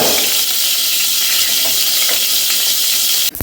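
Mustard seeds hit hot oil for amla rasam, producing a loud, steady, close hiss and sizzle that holds throughout, ending with a brief clatter.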